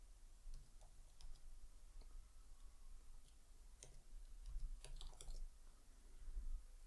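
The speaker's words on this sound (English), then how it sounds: "I'm going to type the word application in all lowercase." Keys tapped on a computer keyboard while a word is typed out in lowercase, a quiet, irregular run of light clicks that thickens toward the end, set over a steady low background hum.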